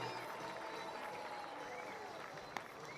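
A baseball crowd at a Welland Jackfish versus Toronto Maple Leafs game applauding a cheer squad, a diffuse steady wash of clapping and murmuring from the stands with a brief sharp clap near the end.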